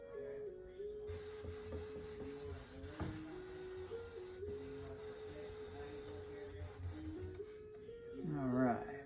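An airbrush sprays water: a steady mechanical hum runs throughout, and a fine continuous hiss cuts in about a second in and holds until near the end.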